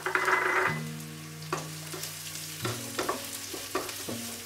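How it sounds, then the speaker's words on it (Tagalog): Onion and black olives sautéing in a pan, a soft sizzle with several sharp clanks and scrapes of stirring, with a low hum underneath and no voices. "Saute for another 1 minute"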